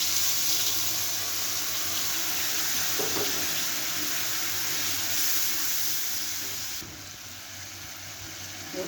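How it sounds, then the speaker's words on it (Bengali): Tamarind pieces dropped into hot tempering oil in a pan give a steady, close hissing sizzle that carries on without a break, then eases to a quieter sizzle near the end. "এবার এই তেঁতুলের কাঠ আমি ফোড়নের মধ্যে দিয়ে দিচ্ছি।"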